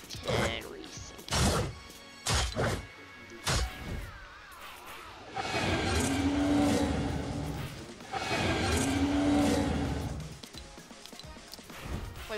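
Pod racing in the Fortnite video game, with loud engine roars and whooshing passes swelling in the second half after a few sharp crash-like hits early on.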